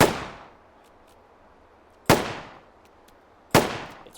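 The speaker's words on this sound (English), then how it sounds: "Your guns are so loud." Three loud, sharp gunshots ring out at a shooting range in the H3VR virtual reality game, spaced about two seconds apart, each with a decaying echoing tail in an otherwise quiet space.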